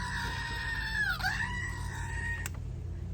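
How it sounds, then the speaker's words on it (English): Screaming goat, a single loud wavering bleat-like scream that dips in pitch midway and holds for about a second and a half, then cuts off, over a low background hum. "that's my screaming goat."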